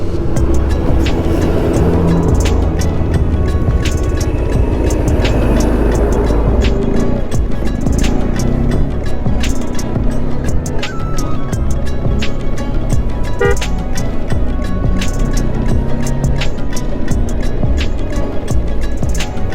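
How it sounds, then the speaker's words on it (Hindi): A bus approaching on a narrow, dangerous mountain road between Yamunotri and Gangotri, a continuous loud engine rumble heard from a nearby vehicle with repeated sharp clicks and knocks over it, steady throughout. "बस आ रही है"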